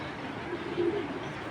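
A large female orange chila pigeon gives a brief, low, faint coo partway through, barely rising above a steady background hiss.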